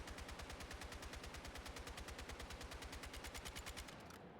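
Automatic rifle fire with the trigger held down in Battlefield 6, a fast, even stream of loud, close shots lasting about four seconds before stopping abruptly, no voices.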